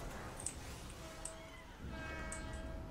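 A train rumbles along with a horn or whistle tone in a Call of Duty: World at War custom zombies map, a steady mechanical drone with a few brief sharp accents and no speech.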